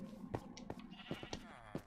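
Pink sheep bleating in a Minecraft stable, several short game-style bleats repeating at irregular intervals, moderately close, over a faint steady background with no talking.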